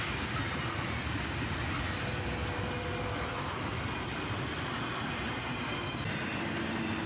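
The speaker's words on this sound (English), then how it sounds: "the tail end of the first train passes us by while the intermodal was still" A CSX freight train rolling past at close range, a dense, steady roar of wheels and cars that stays constant throughout with no break.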